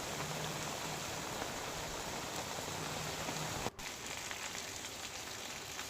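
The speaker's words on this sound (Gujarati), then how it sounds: "સમગ્ર તાલુકામાં સવારથી જ સતત વરસાદ જોવા મળી રહ્યો છે" Heavy rain pours steadily across Maliahatina taluka in Junagadh, Gujarat, a dense continuous hiss of falling water that stays even throughout, with one brief dip near the end and no voices.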